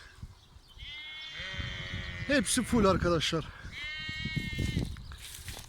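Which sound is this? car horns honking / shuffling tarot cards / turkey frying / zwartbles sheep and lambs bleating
zwartbles sheep and lambs bleating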